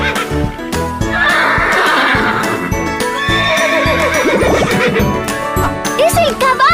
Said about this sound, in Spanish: ¡Es el caballo!